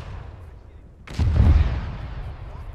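A rocket fires in ArmA 3 combat: one sudden, loud blast that rises quickly and then rumbles as it fades over about a second. A low background murmur runs beneath it.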